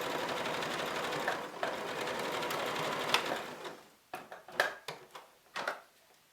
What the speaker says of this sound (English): I'm going to select a zigzag stitch on my machine